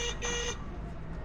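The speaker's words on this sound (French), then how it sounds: "arrête de me klaxonner" A car horn honks in Hangzhou city traffic, a short sustained blast heard from inside a moving car, followed by engine and road rumble.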